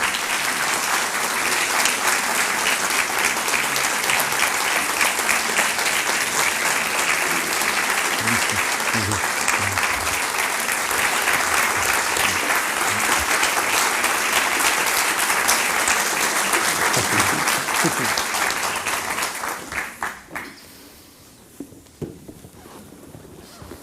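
Sustained applause from a seated audience welcoming the classical scholar Frederico Lourenço at a public talk in Porto, steady and dense for about twenty seconds before tapering off into scattered claps and room noise.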